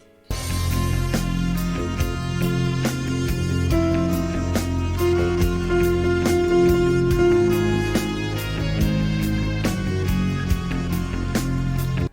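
Orchestral video game music from Prince of Persia: The Sands of Time plays steadily and fairly loud, with sustained low strings and pads under regular percussive hits and a faint piano somewhere in the mix.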